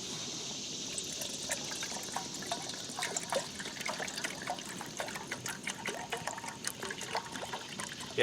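Water is poured into a pot for grits at an outdoor griddle cooking setup, a soft trickling and splashing that runs steadily with small irregular spatters, quiet and close.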